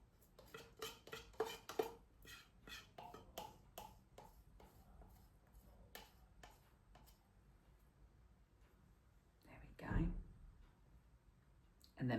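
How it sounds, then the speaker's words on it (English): A small knife scrapes out the last of a container, making quick clinking, clicking strokes against the sides. The scraping is busy for the first few seconds, then fades to sparse taps before one louder knock. "Get your little knifey knife and scrape out every last drop"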